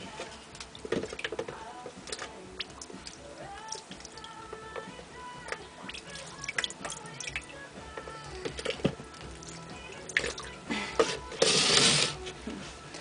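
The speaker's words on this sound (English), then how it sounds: "A good way to clean this up is to use a container of water and a turkey baster." Water squirted and dripped from a turkey baster while cleaning a firebrick ant formicarium: scattered close drips and splashes, then a louder, hissing burst of spray near the end, with no talking.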